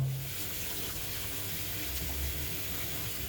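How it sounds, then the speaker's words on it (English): Steady rush of water from a running tap over a car vacuum cleaner filter, continuous and fairly close, with no voices. "we'll show it under running water first"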